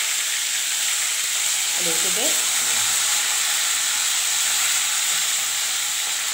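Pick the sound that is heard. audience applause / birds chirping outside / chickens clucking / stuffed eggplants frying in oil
stuffed eggplants frying in oil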